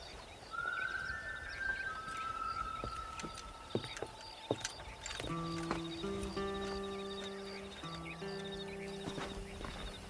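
Horse hooves clip-clop steadily in the Red Dead Redemption video game while herding cattle to pasture, with a whinny and a musical score layered over the rhythmic footfalls.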